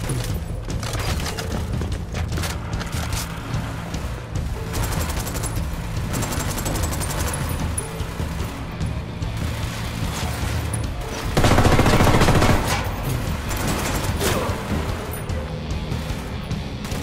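Sustained gunfire in the tactical shooter Ghost Recon Wildlands, steady crackling shots and booms throughout with a louder burst near the end, a dense battlefield din with faint voices underneath.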